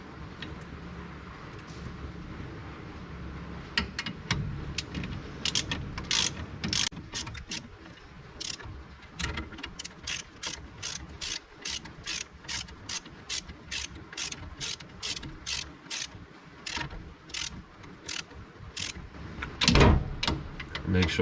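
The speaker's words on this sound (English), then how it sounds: "And you just get your 17mm socket," A hand ratchet with a 17mm socket tightens brake bolts on a 1963 VW Beetle during a king pin disc brake conversion, giving long runs of rapid, crisp clicks in quick bursts, close to the microphone.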